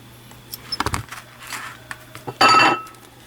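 Wire snipped and handled while making a glass marble wire button: a few small metallic clicks and clinks, then a brief, brighter burst of jangling near the end, close and fairly quiet, with no talking.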